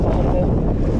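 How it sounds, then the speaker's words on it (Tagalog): Strong wind at sea buffeting a fishing boat, a loud, dense roar of wind noise with low rumbling across the whole brief moment and no clear talk. "kasi malakas ang hangin"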